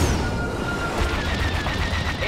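A starfighter in Star Wars Battlefront 2 fires missiles in a dense, continuous barrage of rapid blasts and booms, loud and steady throughout.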